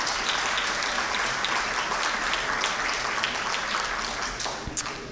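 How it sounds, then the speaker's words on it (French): Dense, steady applause from a conference audience in Lyon greeting the first woman to serve as rector of an academy, a continuous wash of many hands clapping close by that eases slightly toward the end. "oui, vous pouvez l'applaudir"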